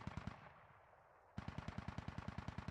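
Rapid automatic gunfire in the SquadOps military shooter game, a quick burst followed by a pause, then a longer sustained string of evenly spaced shots, loud and close over a constant background rumble.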